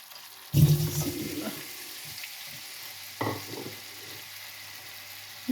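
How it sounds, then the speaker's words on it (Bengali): Vegetables dropped into hot oil in a wok, setting off a sudden loud sizzle that settles into steady frying, with a second, smaller burst of crackling a few seconds later. "তেলটা গরম হয়ে আসছে। এখন আমি সবজিগুলো দিয়ে দেব।"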